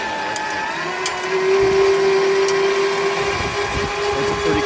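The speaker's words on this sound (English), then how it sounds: "we'll give you an idea what it sounds like up close" A Badland 12000 lb winch on a custom mount pulls an 8600 lb Ram truck, giving a steady close-up motor whine with a constant drone that rises slightly after the first second, heard alone.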